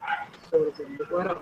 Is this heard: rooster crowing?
no